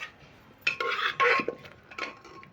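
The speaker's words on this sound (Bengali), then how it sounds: "পাঁচ মিনিট হয়ে গেল এবার আমি খুলে দেখে নেব এবার ডালটা কতটা সেদ্ধ হয়েছে" A metal pot lid is lifted to check chickpea dal cooking with bottle gourd, giving a few short, close clanks and clinks of metal against metal, with quiet pauses between them.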